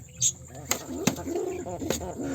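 Domestic pigeons in a keeper's loft coo in low, rolling phrases, with a few sharp clicks or wing taps cutting through a close, busy background.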